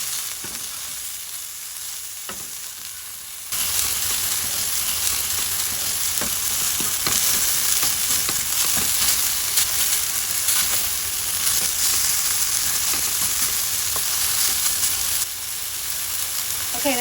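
Buffalo chicken tacos fry in a pan, with a quieter sizzle that jumps to a loud, steady crackle as they are turned over, punctuated by occasional scrapes before easing slightly at the end.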